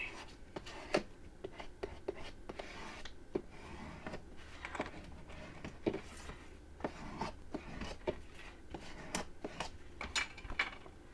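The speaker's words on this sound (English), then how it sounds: "Give it all a nice burnish." Someone burnishes the edges of a leather writing pad folio by hand with quiet, close rubbing strokes that come in short repeated bursts, soft and steady, with faint breathy voice sounds at times.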